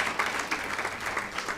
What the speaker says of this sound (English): Let's clap for Njoroge, Prof.